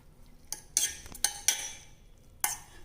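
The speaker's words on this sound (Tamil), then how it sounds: "இப்போ இதை நல்லா கலந்து விட்டுக்கலாங்க" A spoon stirring hot milk into flattened rice (aval) in a cup gives several sharp clinks and scrapes against the side, spread unevenly over a few seconds, close and fairly clear with no talk.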